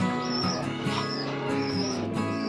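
Fancy pigeons at a pigeon farm, soft cooing and chirping calls repeating over a steady background hum.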